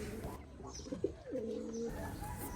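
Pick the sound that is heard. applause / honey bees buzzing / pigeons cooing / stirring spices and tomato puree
pigeons cooing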